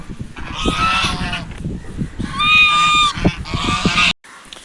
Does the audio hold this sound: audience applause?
no